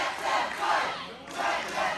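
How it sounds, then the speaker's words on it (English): A wrestling crowd at a Capital Championship Wrestling women's match chants in unison, a loud rhythmic two-beat chant that rises and falls across the arena with no other voices over it. "The crowd here at Capital Championship Wrestling says, "Let them fight.""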